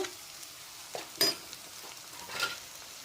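Ground spices of turmeric, chilli, coriander and cumin with salt and sugar frying in a pan for a potol kofta curry, a faint sizzle under a few soft stirring scrapes and light clinks.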